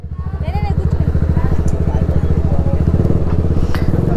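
A BMW 1250 GS motorcycle engine runs loud and close with a steady rumbling throb that holds for the whole stretch, at a superbike meet on a ride to Tiger Point.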